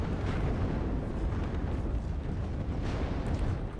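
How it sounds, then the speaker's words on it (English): Artillery shells explode in the real-time strategy game WARNO as a dense, continuous rumbling roar of blasts, fairly loud and steady throughout. "I just noticed artillery shells coming in there."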